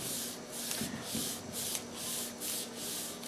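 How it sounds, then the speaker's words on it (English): Paper being burnished down by hand onto a large lap book junk journal page, a soft steady rubbing rasp in repeated strokes, close and fairly quiet. "burnish that down well."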